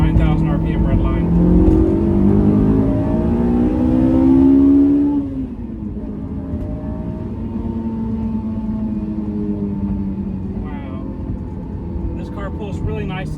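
Honda S2000 engine with an aftermarket intake revs hard from about 4,500 RPM toward its 9,000 RPM VTEC redline, rising steadily in pitch for five seconds before dropping back to a lower cruising drone.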